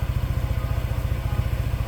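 A new Daelim DNA Motors motorcycle, built on a Haojue Suzuki base, idles with a rapid, even low-pitched putter that pulses steadily and close by, with no voices.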